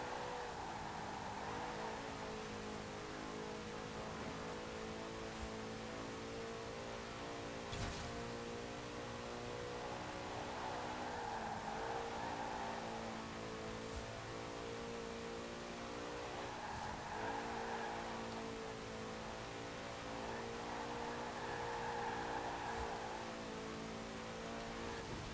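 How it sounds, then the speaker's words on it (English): 1968 Alfa Romeo 33 Stradale in Forza Horizon 4 screams through repeated high-rpm runs past 9,000 rpm, its engine note climbing and dropping with each gear change, steady and continuous with tire squeal mixed in. "this car is a good sounding car as well, with that really rather high revving engine"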